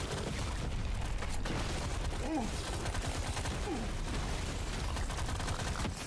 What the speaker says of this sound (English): There's a lot of explosions over here.